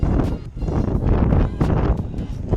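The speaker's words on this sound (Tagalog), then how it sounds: "Umuulan, malamig, mahangin." Gusty wind buffeting the microphone outdoors at a small market in England on a cold, rainy day, loud rumbling blasts that rise and dip in waves.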